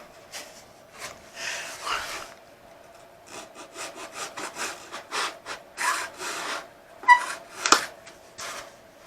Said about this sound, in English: Let me get my little saw. I want to do some trimming right here.